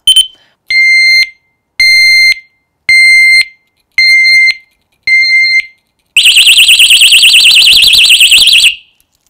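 A loud electronic motorcycle disc lock alarm beeps in six short, evenly spaced bursts, then breaks into a continuous rapid warbling shriek before cutting off.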